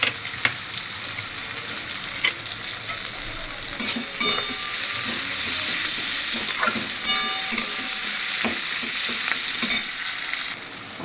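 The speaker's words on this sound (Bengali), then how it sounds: "পেঁয়াজ আর রসুন ভাজা ভাজা হয়ে গেছে" Onion and crushed garlic fry in hot oil for a mutton and potato curry, with a steady close sizzle broken by repeated scraping clinks of a spatula stirring through the pan, no voices.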